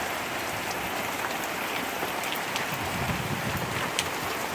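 Heavy thunderstorm rain pours down in a steady, dense hiss on surfaces, loud and unbroken for the whole stretch; no distinct thunderclap stands out.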